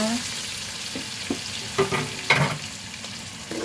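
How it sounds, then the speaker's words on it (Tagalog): Onions and garlic sauté in a pan with a steady frying sizzle, broken by several clinks and scrapes of a stirring spoon. "Mga sibuyas, at saka ang ating bawang. So, gisa-gisa."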